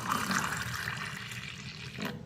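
Water is poured into a tumbler holding a small amount of milk, a steady close splashing stream that rises and then stops.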